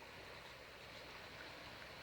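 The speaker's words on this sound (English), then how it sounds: "river's moving pretty good right there from the rainfall we've had." A river running fast and swollen after rainfall rushes in a constant broadband roar, steady and close, with no voices over it.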